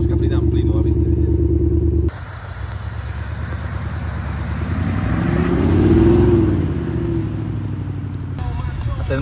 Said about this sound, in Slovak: ešte vám troška pridám plynu, aby ste videli